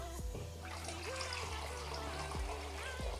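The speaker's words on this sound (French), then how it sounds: "On va enlever de l'eau." Water trickling and pouring slowly off a container of settled tuber starch, a steady liquid dribble with a few faint thuds, close and continuous without talk.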